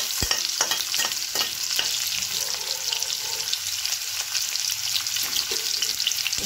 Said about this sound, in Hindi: अब काटे हुए प्याज डाल देती हूँ, इसको थोड़ा भून लेंगे।